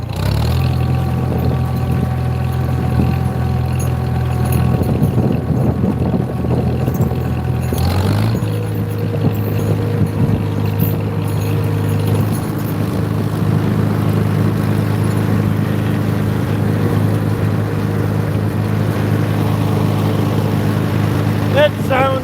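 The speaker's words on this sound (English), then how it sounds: "This isn't that powerful of a tractor." A small tractor's engine runs steadily, a loud low throbbing drone that shifts pitch partway through as the revs change, close by, with a voice speaking over it at times.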